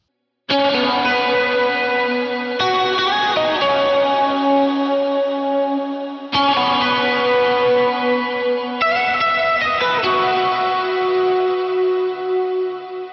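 Lead electric guitar plays a chorus through an ambient effects setup, with sustained notes washed in heavy reverb, echo and chorus effect. The sound is loud and continuous, restarting in phrases across the passage, with no talking.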